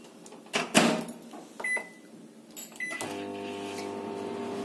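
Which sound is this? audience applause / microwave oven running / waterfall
microwave oven running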